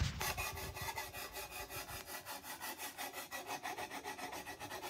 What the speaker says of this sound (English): I use my file to take off all the sharp edges and give it a nice smooth finish